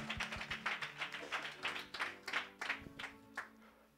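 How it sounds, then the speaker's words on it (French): A church congregation claps along in worship, a steady rhythmic run of hand claps at moderate distance, with no voices over it. "Yes, we can clap to the Lord."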